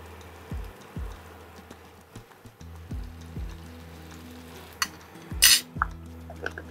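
Shrimp tipped into a hot pan for a spicy shrimp dish, followed by repeated utensil scrapes and clinks against the pan, with a few sharper metallic hits near the end; moderately close, no talking.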